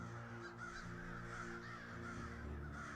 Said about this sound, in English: you hear a crow call in the distance.